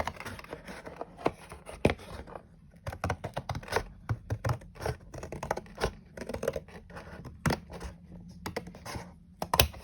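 Scissors cut junk mail paper in a long run of crisp snips and scratchy rustles, irregular and close, some sharp clicks standing out, with no talking.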